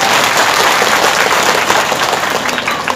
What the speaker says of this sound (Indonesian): Kasih aplaus ibu-ibu.